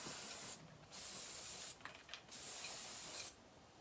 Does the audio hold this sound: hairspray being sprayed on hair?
yes